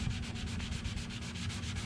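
Steady rhythmic rubbing against the rusty, gouged painted fender of a 1970 Buick Skylark, quick even back-and-forth strokes, close and fairly quiet, with no talking.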